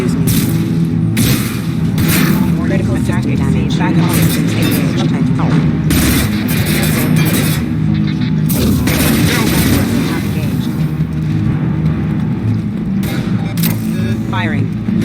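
Combat in Mass Effect 2: dense, continuous weapon fire with repeated sharp shots and booming blasts across a loud, busy battle, with talk running underneath.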